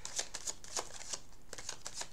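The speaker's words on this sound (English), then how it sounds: "So let me shuffle them one more time." A deck of tarot cards is riffle-shuffled up close, giving a quick run of crisp flapping snaps and papery riffles. Soft, rhythmic bursts repeat several times at a gentle volume.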